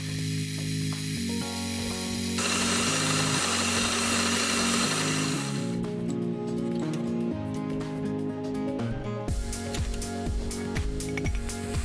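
Drilling hole positions through a clock plate on a drill, the workpiece held by a screw, gives a continuous whirring motor drone with harsh broadband hiss and shifting tones as the bit cuts, close and steady with no talking.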